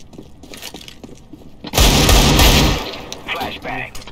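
A flashbang grenade detonates in a video game: a sudden loud broadband burst lasts about a second over quieter game sounds, followed by a ringing after-tone, with murmured speech beneath.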